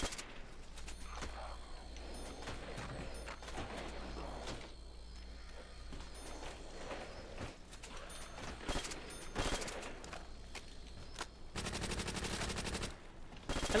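Thompson submachine gun fire in Call of Duty: World at War zombies, repeated rapid bursts and clicks of the weapon, fairly faint and mixed with mechanical game sounds and clatter.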